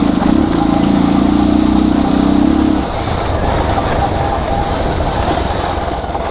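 A motorbike engine runs steadily through an off-road ride, loud and close, with a strong low hum that drops in pitch about a third of the way through and then continues as rough engine and wind rumble.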